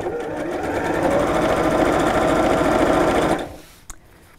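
A sewing machine runs steadily, stitching the matched seams of a child's shirred dress, close and loud for about three seconds before stopping, followed by a faint click.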